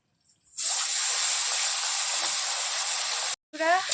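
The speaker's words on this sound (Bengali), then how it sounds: "মাছে হলুদ নুন মাখানো এই যে তেল গরম হয়ে গেছে দিয়ে দিই" Turmeric- and salt-rubbed fish dropped into hot oil erupts into a loud, steady sizzle that holds for about three seconds, then cuts off abruptly before a brief, quieter burst of sound.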